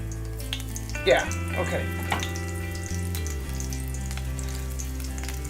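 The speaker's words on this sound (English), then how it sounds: "Really need to see a sizzle of that." A flour-dredged chicken piece for a gluten-free chicken Parmesan sizzles in hot fat in a frying pan, a soft steady crackle. A person briefly speaks over it.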